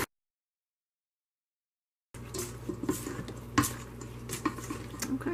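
Fig nut bar batter being mixed in a bowl, soft irregular stirring and clinking close by after two seconds of silence, with a low steady hum underneath.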